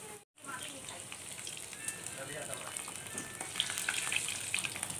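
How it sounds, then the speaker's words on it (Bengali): Small dough pieces fry in hot oil, a continuous bubbling hiss that swells slightly toward the end, steady and moderately quiet, after a brief dropout near the start. "তেলটা ভালো করে গরম করে নেবেন, নিয়ে ভাজবেন"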